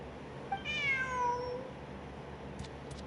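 A cat in the Genshin Impact video game gives one clear, drawn-out meow with a falling pitch, close and alone over a quiet background, followed by a couple of faint clicks.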